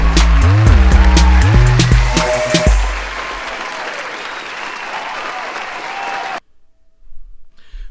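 Applause for Richel Guillaume at a church gathering, starting as loud close clapping over music and voices, then thinning into a steady wash of crowd noise before cutting off.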